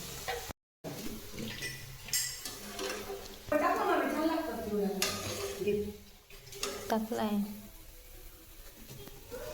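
Grated dry coconut sizzles in hot oil for Diwali chivda while it is stirred and scooped out of the pan, with scraping and clinking of utensils heard under steady talking.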